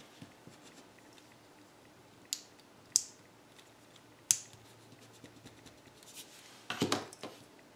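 Pencil marks being erased on paper during a statistics graphing problem, with a few short scratchy strokes and taps, close and fairly faint, ending in a brief burst of brisk rubbing.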